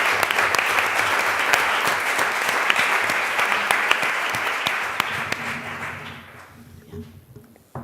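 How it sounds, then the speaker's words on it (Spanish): Steady applause from an audience at a talk on women creators in film, dense clapping sustained for about six seconds before thinning out and fading near the end. "Un aplauso, ¿no?"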